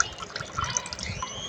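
Water is poured a second time into a blender jar of almond sharbat, giving a short burst of splashing and trickling with small drips, close up, with no talking.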